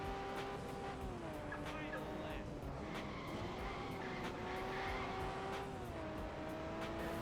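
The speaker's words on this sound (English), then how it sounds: "Big braking zone into the last turn, sliding there. Even the upgraded Fuji MX is sliding there," A race car in the Overspeed Championship video game drones steadily through a braking zone and slides into the last turn, the engine tone dipping and rising under continuous game noise while someone talks over it.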